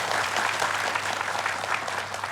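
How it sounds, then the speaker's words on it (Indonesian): A studio audience at an Indonesian Islamic television show applauds in a steady, dense wash of clapping that holds at an even level throughout, with no voices over it. "Boleh tepuk tangan."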